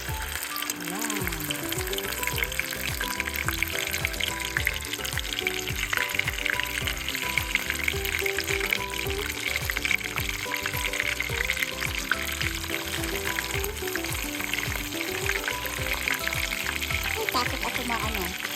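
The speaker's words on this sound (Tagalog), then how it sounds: "Mainit na yung ating mantika, guys. Magpirito na tayo." Croaker fish deep fries in hot oil, a continuous bubbling hiss that runs evenly for the whole stretch while music plays steadily over it.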